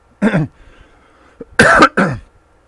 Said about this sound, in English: Pardon me for coughing in your ear.